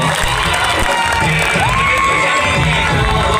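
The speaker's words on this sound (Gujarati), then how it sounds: "જોરદાર તાળીઓ પાડીશું." A large audience at a political rally in Chikda breaks into loud, continuous cheering and shouting, a dense crowd roar with whoops that fills the whole stretch without pause.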